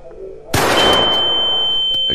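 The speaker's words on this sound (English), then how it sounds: "gunshot pierces the boy's ears, following by a shrill ringing sound" A gunshot bursts out sharply and loudly, then a sustained high-pitched ringing tone lingers steadily after the blast, like ears ringing from the shot at close range.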